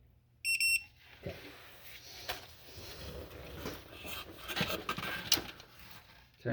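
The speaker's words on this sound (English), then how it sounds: "Turn this off so it doesn't beep at me." Electronic alarm beeps from a device during an in-car KA24DEAT engine rebuild, a short bright burst of high tones near the start, then workshop rubbing and handling noise with faint further chirps.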